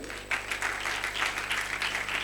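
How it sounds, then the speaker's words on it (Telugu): A congregation claps together at a Bible college graduation service, producing a steady burst of hand-clapping from many people that lasts a couple of seconds at moderate loudness. "మీరు ఖచ్చితంగా ఈ ముగ్గురు రకాలైనటువంటి వ్యక్తుల కోసం గట్టిగా చప్పట్లు కొట్టాలి."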